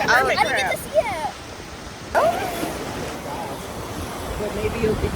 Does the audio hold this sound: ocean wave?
yes